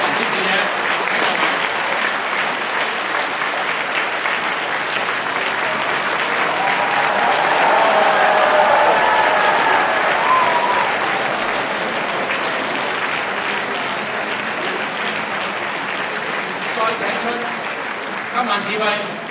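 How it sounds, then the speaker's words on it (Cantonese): An audience gives sustained warm applause at a live Cantonese opera concert in Hong Kong, welcoming the performers before an eighty-piece Chinese orchestra. The clapping is dense and even, swells in the middle, and runs for nearly twenty seconds. "請大家以熱烈嘅掌聲請出阿旭哥、龍貫天生同埋娟姐蔣文端小姐"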